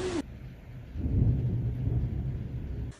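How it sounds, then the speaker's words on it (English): Low rumbling thunder rolls beneath a steady wash of rain in windy weather in Munich, loud and close, with a brief sharper sound at the very start. "it's already beginning to rain"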